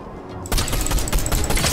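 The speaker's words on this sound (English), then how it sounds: "Oh, there's people shooting there." Gunfire in an online shooter game, a loud burst that starts abruptly after a quieter moment and continues as sustained rapid shots with a dense, noisy background.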